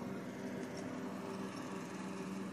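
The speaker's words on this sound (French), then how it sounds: "chez nous, c'est la saison des tondeuses." A neighbour's lawn mower drones steadily at a distance, a constant engine hum with no clear change in pitch or loudness.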